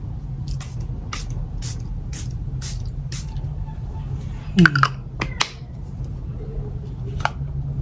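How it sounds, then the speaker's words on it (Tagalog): Charlotte Tilbury Setting Spray misted onto a face in a string of short, sharp, airy spritzes, about eight bursts in a steady rhythm, close and crisp over a low background hum. "At itong gamit ko is itong Charlotte Tilbury Setting Spray."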